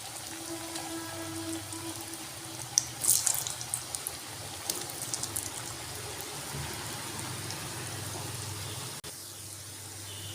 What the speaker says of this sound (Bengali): আমি এরপর পিঠেগুলো ভেজে নেব।